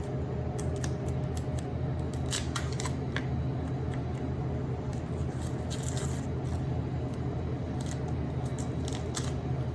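Tough, fibrous onion skin is peeled away by hand, producing close, crackling snaps and papery tearing over a steady low background hum.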